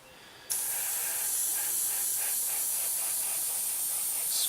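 An airbrush spraying primer starts with a sudden burst and keeps up a steady, close hiss for several seconds.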